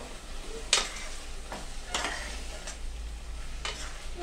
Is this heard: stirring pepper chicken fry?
yes